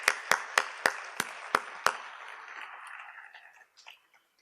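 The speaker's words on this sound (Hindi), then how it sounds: "अब एक बार जोरदार तालियां बजाकर मुझे मन दे दीजिए।" At a Hindi comic poetry gathering in Indore, the audience claps in unison: seven sharp, evenly spaced claps over a murmuring crowd, then scattered clapping that fades out.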